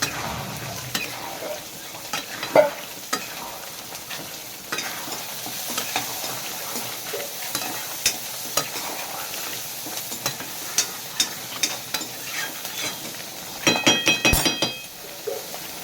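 Fried potatoes being stirred and sautéed with goat meat in a pan, giving a steady close sizzle with frequent scraping and clinking strokes that build to a busier burst near the end; no voices.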